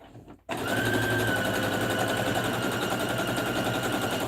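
A sewing machine runs steadily, stitching a sweatshirt, with a fast continuous mechanical whir and rattle that starts abruptly after a brief quiet moment and keeps going, loud and close.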